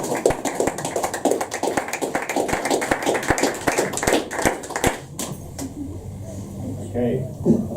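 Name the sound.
audience applause after a poem at open mic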